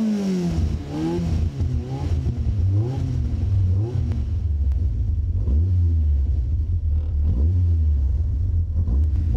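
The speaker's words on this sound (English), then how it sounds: "that's a 180 horsepower of Rover K-Series engine" A Caterham Superlight's 180-horsepower Rover K-Series engine revs hard several times, each blip climbing and dropping over a loud, steady idle rumble, heard alone with no talk.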